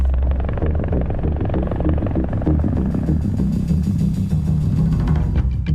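Helicopter rotor turning steadily with a loud, continuous low-frequency thudding and rumble throughout, no talk over it.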